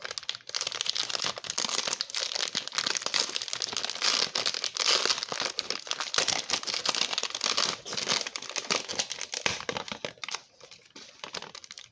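Crinkly cellophane wrappers on 2020 Panini Mosaic basketball card packs being torn and peeled open, close and continuous crackling that eases off near the end, with no speech.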